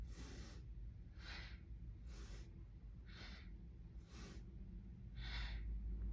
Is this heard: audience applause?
no